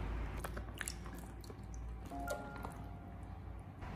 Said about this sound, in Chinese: 接下来我们将清洗干净的青辣椒控水捞出来，放在案板上